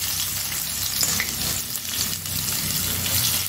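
Thinly sliced onions fry in hot oil in a pan for a chicken masala, sizzling in a steady, close hiss with a little stirring and no voices.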